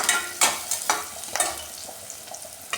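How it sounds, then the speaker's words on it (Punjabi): Garlic sizzles in hot oil in a pan while a spatula stirs it, giving a run of sharp scraping strokes over a soft, steady frying hiss, close and clear with no talking. "ਹੁਣ ਪਾਵਾਂਗੇ ਲਸਣ ਇਸ ਨੂੰ ਪਲਟੇ ਨਾਲ 2 ਮਿੰਟ ਹਿਲਾ ਲਵਾਂਗੇ"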